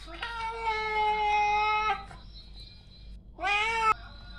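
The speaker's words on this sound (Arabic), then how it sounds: "وهذه القطط المنزلية الشهيرة" A domestic house cat meows twice up close, first a long drawn-out call, then after a short pause a shorter rising meow, heard clearly with no talking.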